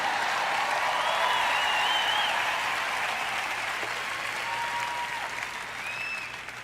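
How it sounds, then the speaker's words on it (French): An audience claps steadily for several seconds, a dense wash of applause that slowly fades a little toward the end. "Je prêche bien, vous feriez donc aussi bien de m'applaudir."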